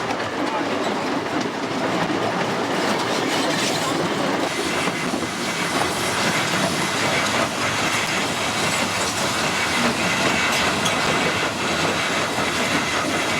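Steam locomotive on the Eritrean railway running steadily along the track, its exhaust chuff and rolling wheel clatter filling the scene continuously at close range, with no talk over it.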